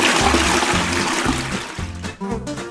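A water toilet flushes with a steady, loud rush of water that continues throughout and falters briefly near the end, a pulsing background tone running underneath.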